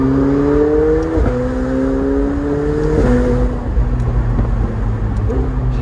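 McLaren turbo engine with stock exhaust driving with the top down, loud rising pitch sweeps as it accelerates through gear changes, with wind noise.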